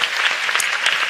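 A French activist gathering's audience bursts into brisk applause for the care team; loud, close clapping from many hands, dense and steady across the short moment.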